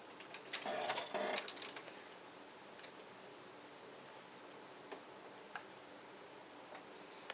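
A domestic sewing machine stitches quilt block pieces at a faint, quiet level, with a brief louder burst of running near the start followed by soft ticking and occasional light clicks, no talking.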